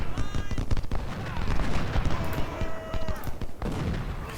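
Artillery fire in Ultimate General: Civil War, a steady crackle of distant cannon and musket reports thumping in irregular clusters, with a faint whistle passing overhead partway through.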